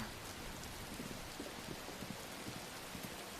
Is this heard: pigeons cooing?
no